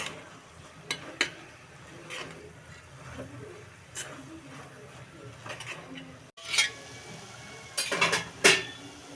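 A spoon stirs and scrapes through a beans and tomato curry in a pan after chili powder, salt and coriander powder go in, with soft intermittent scrapes that grow into louder clanks and scuffs toward the end.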